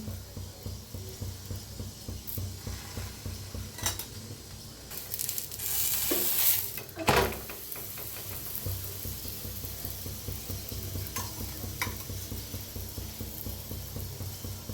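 Puran poli cooking in oil on a hot pan gives a steady, fairly loud sizzle with a fine crackling texture that swells in the middle and carries on throughout.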